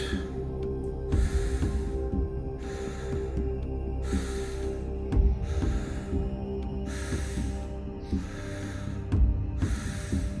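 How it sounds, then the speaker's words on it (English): Strong, rhythmic breaths during a guided breathwork session, each forceful breath arriving about every second and a half over a steady low hum, with no talking. "Keep that breathing constant."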